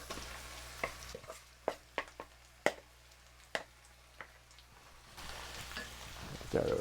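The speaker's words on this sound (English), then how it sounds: "stir that around a little bit. Get that frying." Chicken frying with onions in a pan, a quiet sizzle broken by several sharp scrapes and clacks of stirring, with the frying growing louder near the end.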